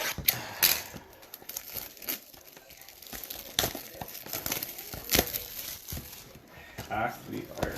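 Crinkling, tearing plastic of a 2020 Prizm blaster box card pack being ripped open nearby, in scattered crackly bursts between softer rustles, with people talking over it.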